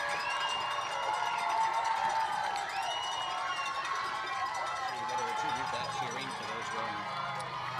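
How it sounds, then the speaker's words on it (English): Crowd cheering at a rowing regatta on a river, a broad, distant wash of shouts and whoops with some whistling, steady and moderately loud throughout. "you can hear the cheers from the crowd"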